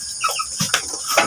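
Fighting roosters at a cockfight squawk and cluck in short, harsh bursts over a steady insect-like hiss, close by and loud.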